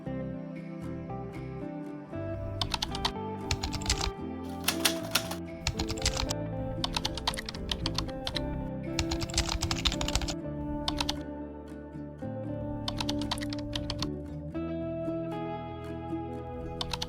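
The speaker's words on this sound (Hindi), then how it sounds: "मुझे एक कीबोर्ड का इफेक्ट चाहिए" Rapid computer keyboard typing added as an editing sound effect, a dense run of clicking keystrokes with short pauses, loud and close with no voices.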